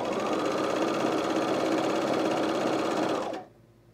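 Sewing machine running a continuous 3/8 inch seam on a camisole, a loud, even mechanical whir held steadily for about three seconds before stopping abruptly.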